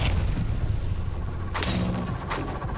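Grenade blasts in the game Beyond Contact land as two broad, booming bursts over a steady low rumble of game ambience, with no talking.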